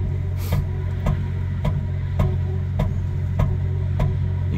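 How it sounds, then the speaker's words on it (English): A 1965 Nova's driveline thumps regularly and rhythmically, about twice a second, over a low, steady mechanical rumble, with no voices. "that noise you're hearing is the drive line."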